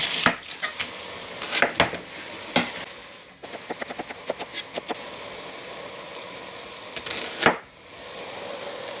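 Knife dicing an onion on a cutting board, bursts of quick rhythmic chops with louder single strikes between them and a few pauses, close and clear with a faint sizzle underneath.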